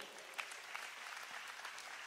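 A church congregation applauds for the Lord, a steady, dense wash of many hands clapping that stays fairly soft and even for about two seconds, with no voices standing out.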